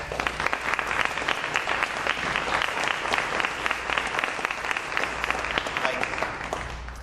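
Audience at a press conference in Arkansas breaks into sustained applause, dense continuous clapping from many people filling the room at steady volume for several seconds.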